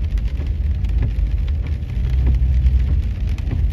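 Steady rain patters on a hard surface in California, a dense close hiss with scattered louder drops, continuous and without talk.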